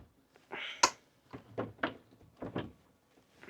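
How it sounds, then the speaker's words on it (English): Cruise ship cabin door on the MSC Seashore that won't fully close and lock, rattling in a series of short, irregular knocks and thunks close by, with quiet pauses between. "This door does not close and lock all the way. And it like rattles."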